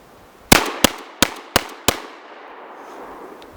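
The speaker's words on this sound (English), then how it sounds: "Let's see if she'll fire 5 rounds without interruption." Five sharp, loud shotgun blasts from a Dominion Arms Cougar, a Remington 1100 clone semi-automatic, fired outdoors in quick succession about a third of a second apart, each followed by a short decaying echo.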